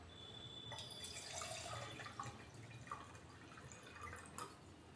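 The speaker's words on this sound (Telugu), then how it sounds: "దీనిలో నీళ్ళు నింపుకుందాం." Water fills a South Indian filter coffee maker's upper chamber, a steady close splashing and trickle with faint dripping that runs on continuously with no speech.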